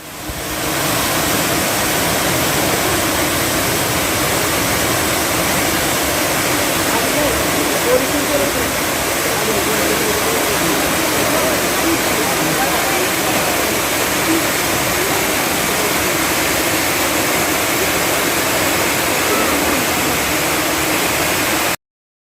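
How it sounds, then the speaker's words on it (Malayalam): Cheeyappara waterfall near Munnar, a well-known seven-tiered fall, gives off a loud, constant broadband rush of falling water that stays even and unbroken throughout, with no voices heard. "ചീയപ്പാറ വെള്ളച്ചാട്ടം വളരെ പ്രശസ്തമായൊരു വെള്ളച്ചാട്ടമാണ്."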